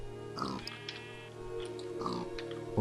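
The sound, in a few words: pig grunting in Minecraft video game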